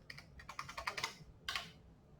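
Close, quiet typing on a computer keyboard: a quick cluster of key taps, a short pause, then a few final keystrokes. No one speaks.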